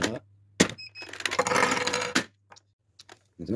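A Nerf Sledgefire blaster fires its last dart: a sharp close thunk, then a sustained rattling burst, then a few faint clicks and a final knock.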